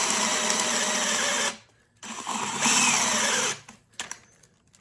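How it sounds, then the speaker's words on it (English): A power drill bores through an 8mm metal plate for a motion simulator base, whining steadily in two long bursts separated by a short pause, then trailing off into scattered clicks and taps. "Nice straight drill. Bit of pressure. Not too fast."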